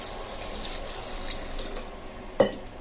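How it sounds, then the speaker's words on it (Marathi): Water poured from a small pot onto mutton in a pressure cooker, a steady close splashing pour lasting a couple of seconds, ending with a sharp metallic clink. "तर मी आता इथं 1 तांब्याने पाणी टाकते।"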